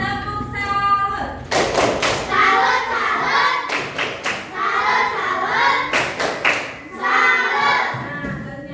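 A classroom of pupils performs a rhythmic 'tepuk salut' clapping chant, loud, close bursts of claps in patterned groups, interleaved with children chanting along.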